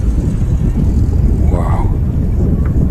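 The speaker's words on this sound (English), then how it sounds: "Spooling up, ready for takeoff. Take off thrust on an Aston Martin." An airliner's engines spool up to takeoff thrust at windy Manchester Airport, a steady, heavy roar filling the whole clip with buffeting wind noise mixed in.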